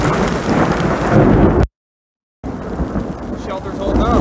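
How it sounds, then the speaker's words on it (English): Heavy rain and rumbling thunder during a severe overnight thunderstorm pour down around an outdoor shelter and someone in a rain poncho, a loud, dense wash that cuts out briefly before resuming. "Got a little bit of thunder."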